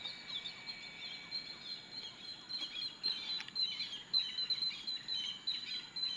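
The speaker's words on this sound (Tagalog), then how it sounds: "Ang sarap pakinggan ng mga huni ng ibon, ano, guys?" Birds sing outdoors beside a road, with faint, high chirps and whistled notes repeating over quiet background noise.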